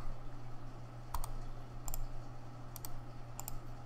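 Computer keyboard typing in a crafting game, a few short bursts of quick clicking keystrokes spaced across a steady background hum, moderately near and fairly faint.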